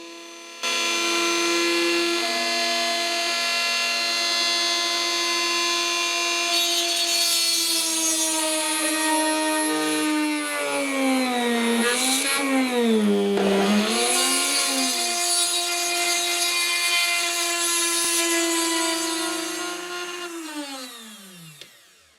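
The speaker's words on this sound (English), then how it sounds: "I have my Dremel workstation set up with a 2mm drill to drill out the 2 rivets" A high-pitched Dremel rotary tool with a 2mm drill bit whines steadily for about twenty seconds, drilling out metal rivets on a Dinky Toys Lagonda model's base plate, its pitch dipping and wavering briefly midway as it bites in, then winding down.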